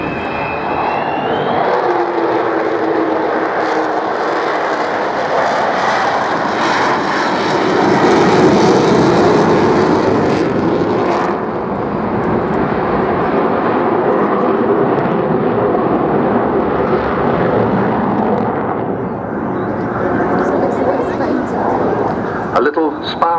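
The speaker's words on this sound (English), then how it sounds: "he's flying the Vulcan today as we watch" Avro Vulcan XH558 bomber flying at the Bournemouth air show, a loud sustained roar and howling jet drone that swells and fades as it passes, with a commentator talking over it and a dog barking.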